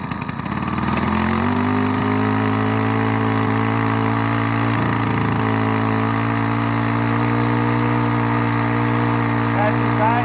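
Craftsman 21-22 inch push mower engine on a cold spring start, revving up after firing and then holding a loud, steady droning hum at full throttle close by, with talking over it.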